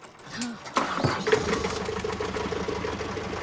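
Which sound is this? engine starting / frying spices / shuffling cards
engine starting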